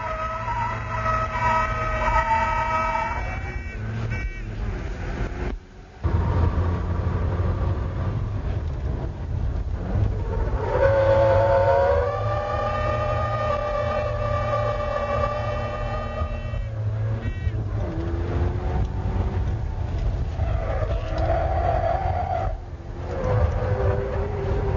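A stock Mazda RX-7 FC turbo is drifted by Keiichi Tsuchiya, its engine wailing as it rises and falls with sharp throttle changes, with a brief dip in the sound partway through.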